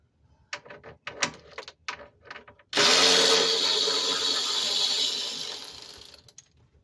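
Loosening a radiator bolt on a 2003-2005 Lincoln Aviator with the 4.6L V8: a few sharp ratchet clicks first, then a steady loud whirring burst from a power ratchet lasting about three seconds before fading out.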